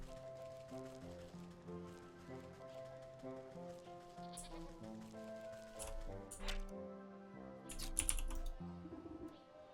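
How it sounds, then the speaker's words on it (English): A sheep bleats in the video game Wytchwood, in a town market setting. The short, faint calls sit over constant tuneful game music for several seconds. "I know there was a sheep somewhere in here."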